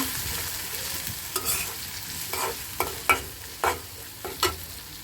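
Frying taro crackles under a low sizzle as turmeric powder is stirred in, with a spoon scraping the pan in sharp, irregular strokes.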